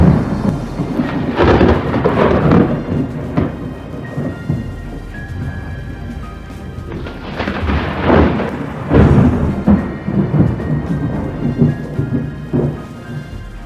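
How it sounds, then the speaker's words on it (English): Deep explosive thunderclaps from nearby lightning in a severe storm, with booming rolls around two, eight and ten seconds, over steady heavy rain throughout. "Negatively charged high-amp lightning bolts carrying a strong negative charge, accompanied by deafening explosive thunder"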